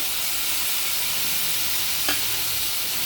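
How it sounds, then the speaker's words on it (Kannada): Onion and tomato fry in a pan for Maggi noodles, a steady close hiss of sizzling oil with one brief clink partway through and no speech. "ಈರುಳ್ಳಿ ಸ್ವಲ್ಪ ಫ್ರೈ ಆಗಬೇಕು, ತುಂಬ ಜಾಸ್ತಿ ಏನು ಫ್ರೈ ಆಗೋದು ಬೇಡ"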